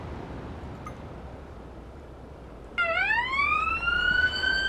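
An ambulance siren in an ambulance simulator game kicks in partway through, a loud rising and falling electronic wail over a low driving rumble, with no talking.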